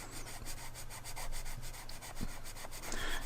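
Colored pencil scratching across paper while a swatch triangle is filled in, a steady close, dry rubbing texture with soft repeated strokes throughout.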